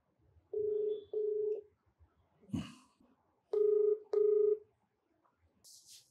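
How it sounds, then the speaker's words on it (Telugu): A telephone call goes out over the line, with two pairs of steady electronic tones separated by a short noisy burst, then faint soft tones near the end. "కాల్ చేసేయమంటారా? చేయండి మేడం."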